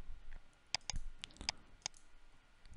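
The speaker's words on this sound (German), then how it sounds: "wenn ich auf diese einzelnen Bilder klicke" A computer mouse clicks sharply a handful of times in an irregular rhythm while selecting images in GIMP, close and crisp over a quiet room with no talk.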